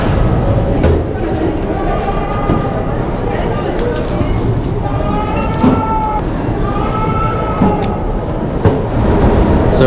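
A Sao Paulo metro train rolls along with a loud, continuous rumble and recurring rising whines from its motors, while people talk in the carriage.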